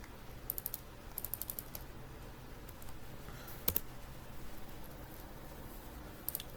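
Someone types on a computer keyboard in quick bursts of light clicks, close and fairly quiet, with short pauses between the runs and no one speaking.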